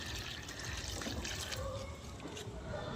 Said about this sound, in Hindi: पानी भरपूर दिया है मैंने सारे गमलों में